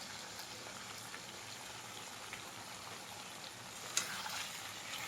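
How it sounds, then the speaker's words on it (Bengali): Chicken frying with ground spice paste in a pan for curry, a soft, steady bubbling sizzle with one sharper scrape near the end, quiet and close, no talking. "মশলাটা দিয়ে একটু ভাজা ভাজা করতে হবে।"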